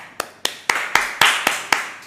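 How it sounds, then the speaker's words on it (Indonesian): Sharp, single hand claps repeat at an even, steady pace, about seven in two seconds, close and crisp. "Tepuk tangan dulu toh."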